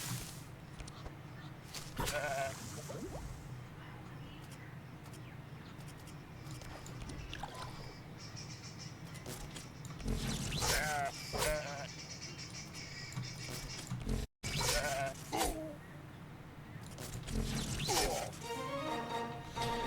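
Sheep bleats from the video game Across The Obelisk recur over ambient game sound effects, with several bursts of bleating and other in-game noises spread across the stretch.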